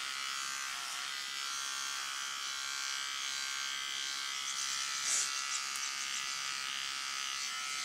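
Electric horse clippers buzz steadily while trimming a horse's coat, going with the hair growth near the throat latch. The drone is continuous and close, with only slight shifts in tone.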